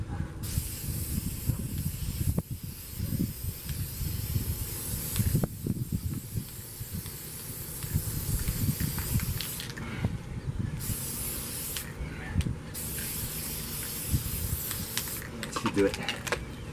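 Gold spray paint hisses from an aerosol can through a stencil in repeated bursts of varying length, with short pauses between them and a person speaking quietly in between.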